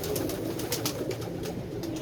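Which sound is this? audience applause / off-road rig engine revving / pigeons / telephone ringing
pigeons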